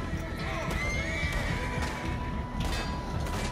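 A horse neighs and whinnies in the Western video game Red Dead Online, a loud rising-and-falling call with clip-clopping hooves beneath, set against game ambience.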